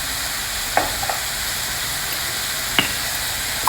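Chopped tomato, green chili, ginger and spices frying together in a pan for moong sprouts khichdi, a constant loud sizzle with a few sharp utensil taps against the pan and no talk.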